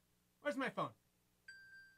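A phone gives a notification beep, a short steady electronic tone that sounds right after a person speaks.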